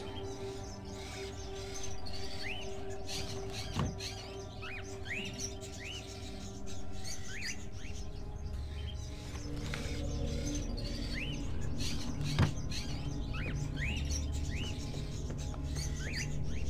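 Small birds chirping in the video game Fahrenheit, repeated short high tweets scattered over a steady low ambient hum, moderately near and fairly soft, no talk.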